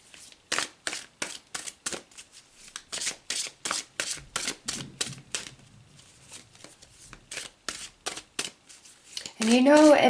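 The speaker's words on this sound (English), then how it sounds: "let's pull some tarot" Tarot cards shuffled by hand in a quick series of crisp riffles and snaps, close and clear, while a voice speaks briefly near the end.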